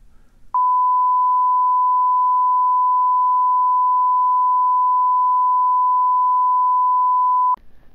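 A steady, pure high-pitched tone holds unchanged for about seven seconds, clean and loud, with brief faint noise before and after.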